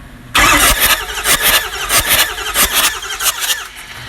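A car engine cranking over with a loud, squealing starter whine and rhythmic compression pulses repeating about every quarter second, checked for oil pumping.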